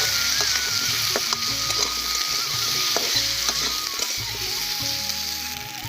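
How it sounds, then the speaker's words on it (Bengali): Potatoes fry in hot mustard oil in a pan, a steady, loud, even sizzle that continues throughout with occasional faint pops and stirring scrapes, no voices. "তেলটা গরম হয়ে গিয়েছে, এই আলুগুলো ভেজে নেব।"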